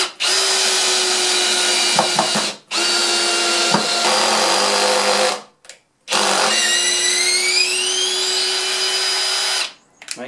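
Cordless ToolPRO 18V hammer drill running on its low gear setting, loud steady motor whine in three long bursts with short pauses and a rising pitch sweep near the end, no talking.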